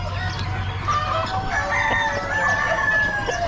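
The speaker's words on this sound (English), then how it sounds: "A bunch more roosters." Roosters crow repeatedly amid a busy poultry section at an Amish animal auction, with overlapping calls and clucking from many birds over a steady crowded background din.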